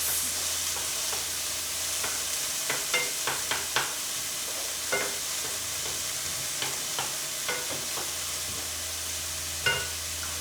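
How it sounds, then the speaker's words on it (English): Food sautéing in a hot pan gives a steady, close sizzling hiss, broken by scattered clinks and scrapes of stirring, with no talking. "we're going to allow for these to saute for about 6 to 8 minutes"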